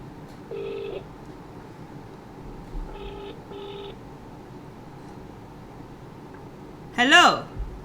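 Phone dialing a call during a Zork game session: three short, fairly quiet tone bursts spaced apart over a low background hum, followed by a louder brief chirping connection tone near the end.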